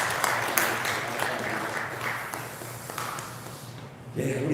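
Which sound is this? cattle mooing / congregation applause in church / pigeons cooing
congregation applause in church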